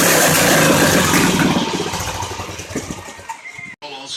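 A mini quad engine runs loud and close at first, its rough broadband roar gradually settling and thinning toward a quieter idle, with a brief dropout near the end.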